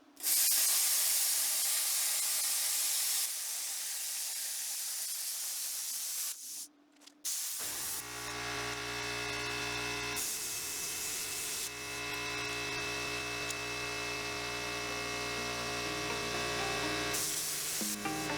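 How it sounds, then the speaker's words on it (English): A plasma cutter trims metal on a Dana 60 axle at the kingpin, starting with a loud, steady close-up hiss for several seconds. After a short break, a droning electrical hum with strong tonal overtones carries on to the end. "start with just trimming this down with the plasma real quick"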